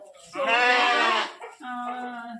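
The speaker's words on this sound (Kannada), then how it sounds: "ನೋಡಿ ಇವೆಲ್ಲ ಮರಿಕುರಿಗಳು" Lambs bleat in a shed, one loud, long wavering bleat followed after a short pause by a second, lower, steadier bleat, close by.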